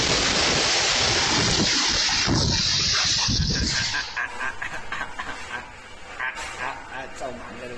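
Heavy rain and strong wind from Typhoon Matmo striking China, a loud broadband rush of downpour and gusts that fills the first half, then eases into a thinner, choppier wash with some talk underneath.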